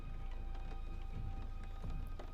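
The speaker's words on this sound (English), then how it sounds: "the rain from the storm continued to hit against a window" Storm rain beats steadily against a window, a dense, continuous patter with scattered sharper drops and low thuds, even and close throughout with no voices.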